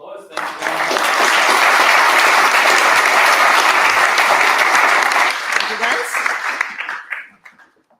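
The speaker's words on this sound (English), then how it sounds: "All right, a round of applause." A conference audience at a data engineering event applauds after a presentation, loud sustained clapping that swells within a second, holds for several seconds, then thins out and fades near the end.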